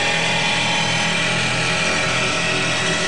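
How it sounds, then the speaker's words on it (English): A racing powerboat engine at full throttle near 93 mph, a steady loud roaring drone that holds constant throughout without pauses. "They're putting the hammer down now. They're running 93 miles an hour."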